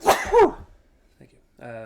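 One loud, sharp sneeze bursts out close by, and a short spoken reply follows after a brief pause.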